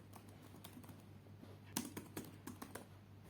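Keys clack on a computer keyboard as a search query is entered on a Windows 7 PC, a run of quick, irregular keystrokes over a steady low hum, with no talking.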